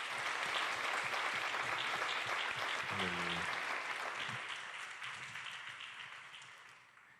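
A church congregation applauds, with dense steady clapping throughout and a short spoken exclamation in the middle. The clapping tapers off toward the end.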